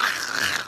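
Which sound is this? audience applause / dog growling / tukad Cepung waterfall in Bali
dog growling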